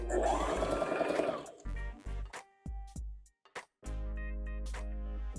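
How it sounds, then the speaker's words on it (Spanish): Sewing machine stitching a jumpsuit, starting with a steady whirring run, then several short stop-start bursts, and ending with another sustained run, close and clear with no talk. "Entonces comienzo a coser. Siempre al iniciar rematamos o hacemos doble costura y seguimos cosiendo."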